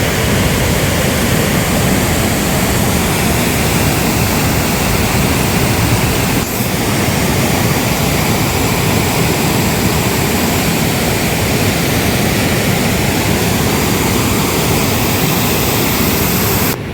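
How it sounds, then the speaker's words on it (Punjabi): The fast-flowing Ghaggar river roars in a loud, continuous rush at Chandpura, a dense, unbroken wash of water noise with no voices. "ਪਾਣੀ ਦਾ ਬਹਾ ਦੇਖੋ ਬਹੁਤ ਜ਼ਿਆਦਾ ਤੇਜ਼ ਬਹਾ ਹੈ"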